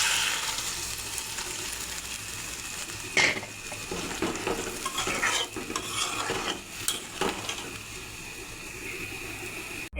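Hot water poured into a sizzling spice mix in a pan for hilsa fish curry with flat beans, potato and tomato, with hissing, bubbling and scattered scrapes and clinks of a stirring spoon.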